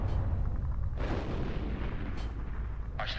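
Artillery guns firing in the WWII strategy game Steel Division 2 during a battle against Hungarian armour: deep, rumbling booms over a constant low battlefield roar, one heavy blast early, then fainter reports, and a sharper crack at the end.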